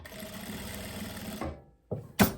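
A sewing machine stitches a dress seam with a steady close whir for about a second and a half, then stops, followed by two short bursts of handling noise.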